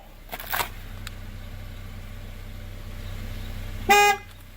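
A single short car horn honk near the end, following a faint brief toot early on, over quiet idling background noise, as the car signals each tire pressure sensor during a TPMS relearn.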